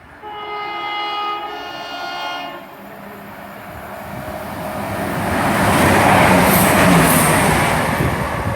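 A Class 168 passenger unit sounds a two-tone horn, then runs through Gerrards Cross station with a rising rail roar that peaks loud and close near the end; a few squeals sound overhead.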